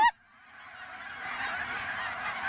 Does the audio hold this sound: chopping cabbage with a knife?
no